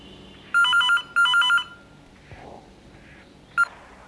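Telephone ringing in two electronic trilling bursts, close and clear, followed by quiet rustling and a short final chirp.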